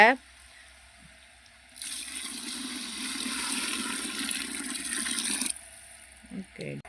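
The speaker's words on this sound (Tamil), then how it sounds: "இப்போ சாம்பாருக்கு தேவையான தண்ணி சேர்த்துக்கோங்க" Water pours steadily into a pot of sambar for about 50 people, several seconds of loud broad rushing splash that starts and stops abruptly.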